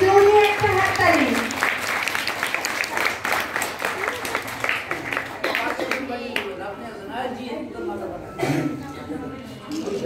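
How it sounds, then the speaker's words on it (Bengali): An audience applauds to welcome a singer at an evening music gathering, a continuous patter of clapping running under a speaking voice for most of the clip. "মহাশয়কে জোরে একটা হাততালি।"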